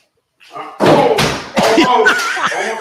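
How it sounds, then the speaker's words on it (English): A heavy thud of someone crashing into a door, followed by rattling impacts and thumps at close range, mixed with people's voices talking and exclaiming over the noise. "The thing I love is how he crashes into the door first."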